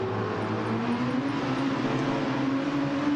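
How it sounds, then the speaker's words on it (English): Race car engines in the Classic DTM sim racing game drone steadily at sustained revs, a continuous mid-loud hum with a slowly rising engine tone and no gaps. "Can you hear the cars?"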